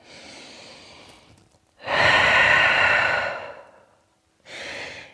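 Slow, deep breathing during yoga in downward dog: a long exhale, then a louder full inhale-exhale lasting a couple of seconds, and another breath beginning. Close and clear, no talking.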